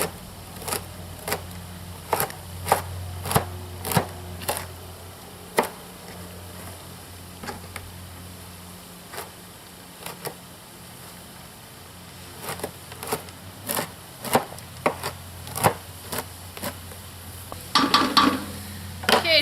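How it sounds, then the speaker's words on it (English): Carrots being chopped with a knife on a cutting board: a series of crisp, irregular taps close by, clustered in bursts with short pauses, over a faint background sizzle. "I always give these a little bit of a chop just to make them not quite so long."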